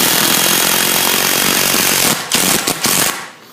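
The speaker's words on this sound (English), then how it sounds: "when you screw it in there" A power drill drives screws into a storefront top plate, giving a loud, continuous close-up whir that breaks into a few short stuttering bursts before spinning down.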